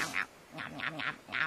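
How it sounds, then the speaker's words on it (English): Cartoon duck quacking in a quick series of nasal calls, a couple of short quacks followed by a rapid run of four more, close and clear. "Wow, it was the duck."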